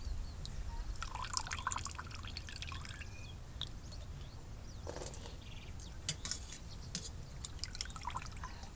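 Water drains from blanched peas on a perforated plate: scattered faint drips and small trickles patter irregularly in a quiet kitchen.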